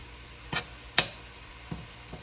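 Ground beef hamburger sautéing in one pot for chili: a faint, steady sizzle is broken by a few sharp scrapes and clacks of a utensil against the pot, with no talk.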